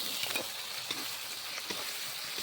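Ginger garlic paste frying in hot oil with a steady, faint bright sizzle and a few soft stirring taps.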